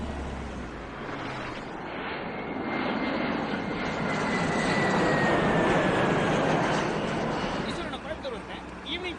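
An airplane drones overhead in a movie scene, its engine roar swelling gradually to a peak mid-clip and then easing, broad and steady, with faint talk underneath.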